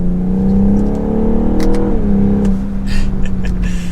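A 2022 BMW M440i Coupe accelerates with a close, rising engine note that swells and then drops off as the throttle lifts, followed by a few sharp crackles and pops.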